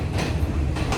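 A passenger train on a scenic hill-country line in Sri Lanka, heard from inside the carriage as a loud, steady rumble with rattling clatter and rushing noise, and no voices.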